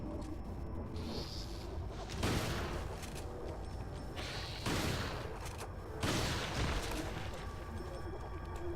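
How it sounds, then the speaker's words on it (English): Booming gunshots in Resident Evil 4, three heavy blasts spaced a couple of seconds apart over a dense game ambience. "I'm just gonna wait here and shoot him"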